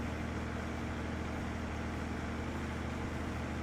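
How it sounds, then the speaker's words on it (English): A farming video game tractor engine runs in a steady, continuous low hum with no change in pitch, moderately loud and alone. "So that tractor sounds good right there."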